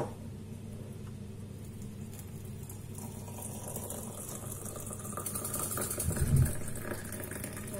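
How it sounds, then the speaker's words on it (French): Boiling water poured over mint leaves and sugar in a teapot for mint tea, a steady close pouring and splashing that grows fuller toward the end before a brief knock. "je vais venir mettre de l'eau bouillante"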